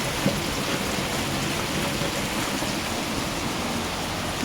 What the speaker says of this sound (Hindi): बहुत तेज़ वाली बारिश हो रही है, आगे तक देखो बारिश हो रही है।